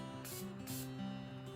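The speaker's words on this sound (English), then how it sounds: "give it a few spritz" Morphe setting spray is spritzed in a few quick puffs, three short hissing bursts close by and very soft, with a faint background hum.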